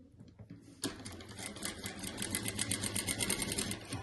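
A sewing machine stitches a white patchwork piece onto a black felt rug. It starts up after a quiet moment and runs in a steady, fast, rhythmic clatter, close and loud.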